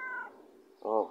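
A cat meows twice, close and fairly loud: a short rising call followed by a fuller, drawn-out meow, with a person speaking softly in between.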